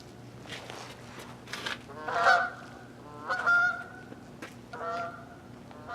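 A flock of geese migrating north honks outdoors, repeated nasal calls arriving in several loud bursts over a soft background, fairly close with overlapping voices and no talking.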